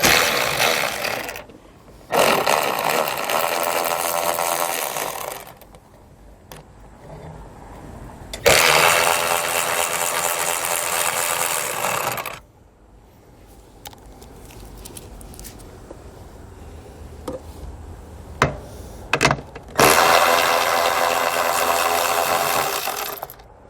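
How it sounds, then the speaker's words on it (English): A power tool with an 8mm socket drives out screws while a taillight is removed on a 2017 Cadillac CTS, three loud buzzing runs of a few seconds each separated by quieter handling clicks. "So I'll grab my 8mm socket and remove all those."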